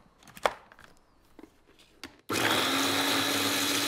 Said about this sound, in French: la patate douce est assez fibreuse, donc vous devrez mixer un peu plus longtemps que d'habitude